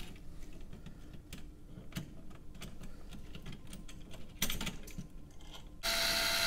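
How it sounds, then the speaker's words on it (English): Screws being driven by hand into the small metal bracket of a vintage-style wall sconce, heard as faint, irregular clicks and scraping turns close up, followed by a brief louder rustle at the end. "Just line up your holes, put your screws in."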